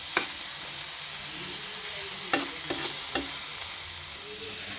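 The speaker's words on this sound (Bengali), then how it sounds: "আম্মু এক পাশে থানকুনি পাতা চুলাতে ভাজি করতেছে" Thankuni (pennywort) leaves frying on a home stove, a continuous close sizzle with a few sharp crackles and stirring scrapes, no voices.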